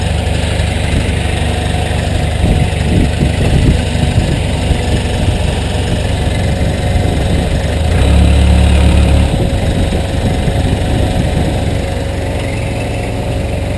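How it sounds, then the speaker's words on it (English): Engine of a Case 428-B backhoe loader running steadily up close, a continuous low diesel drone with a brief heavier surge as the machine moves forward, with no talking. "So it's time to move the machine up so I can get that big rock out of the way."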